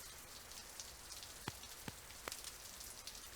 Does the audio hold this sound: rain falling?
yes